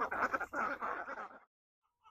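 Pet ducks quack in a quick series of nasal calls at close range, then fall silent, leaving a brief faint call near the end.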